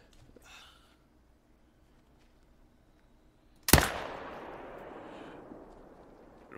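A single sharp rifle shot cracks out in theHunter: Call of the Wild on the Revontuli Coast during a moose hunt, loud and sudden after quiet, then a long rolling echo fades away.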